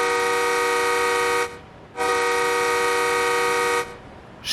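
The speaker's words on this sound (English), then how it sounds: "So let's listen to the horn." Two long, loud blasts from an MBTA commuter train cab car horn in Train Sim World 5, steady multi-tone chords with a short gap between them and a third starting at the end, with no voices.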